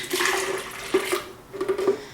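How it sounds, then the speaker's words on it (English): A strawberry, lemon and mint lemonade mixture is poured into a container, a steady close gurgling liquid stream with a few sloshing surges. "pour it in the container"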